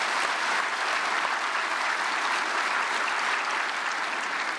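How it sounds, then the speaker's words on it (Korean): Steady, dense audience applause fills the hall at a Christian prayer gathering for peaceful reunification, welcoming a former ambassador to the stage, sustained and even throughout without a break. "장기호 대사님, 박수로 환영해 주시겠습니다"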